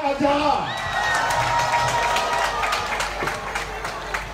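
Audience at a charity concert in Bafoussam clapping and cheering for footballer Ajara Nchout, a broad crowd roar with scattered whoops while an announcer speaks over it.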